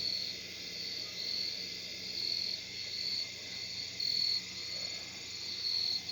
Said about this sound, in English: I can hear the insects